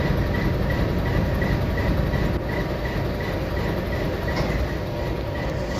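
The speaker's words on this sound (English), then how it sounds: "We got the Advil switcher rolling through." A railroad switcher locomotive rolls past at close range with a continuous loud rumble, wheel noise and faint clickety-clack on the rails, with no voices.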